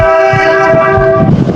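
A loud, close vehicle horn blares in one sustained blast for over a second, then cuts off abruptly, clearing traffic on the way to a hospital.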